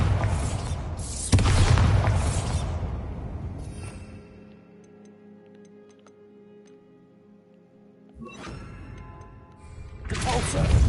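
Bombarda explosion spells go off in Hogwarts Legacy, two heavy, loud booming blasts that each roar for a couple of seconds, separated by a quieter stretch of faint ticking ambience.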